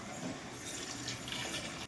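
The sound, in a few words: hot water being poured into a pot of vegetables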